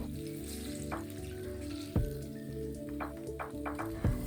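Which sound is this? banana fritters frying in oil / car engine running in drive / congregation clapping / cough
banana fritters frying in oil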